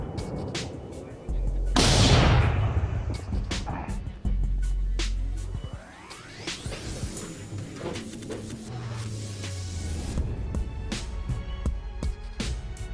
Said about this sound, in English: Video shows the missiles striking the Russian tanks, which explode and erupt into flames.